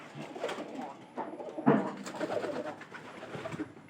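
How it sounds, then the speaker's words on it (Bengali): Pigeons kept in a loft coo softly in low, throaty, rolling murmurs, fairly near and continuous over light background noise. "এইগুলা পায়রিগুলো উপরে আছে"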